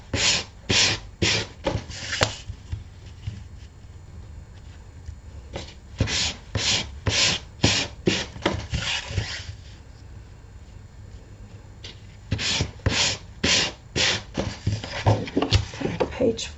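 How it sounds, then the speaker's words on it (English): Edges of journal pages being sanded by hand in quick rhythmic bursts of scratchy rubbing, with pauses between sets of strokes; close and moderately loud, with a soft voice audible at times. "So I'm going to sand those 3 sides."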